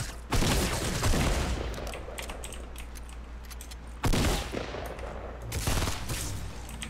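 Suppressed submachine gun fire in Fortnite Battle Royale, heard as dense, muffled rapid-fire bursts that run almost without a break, with brief pauses and fresh bursts at about four and five and a half seconds.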